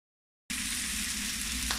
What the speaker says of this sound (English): I've got the meat in the pot with the onions and the garlic, the ginger and the the Indian chili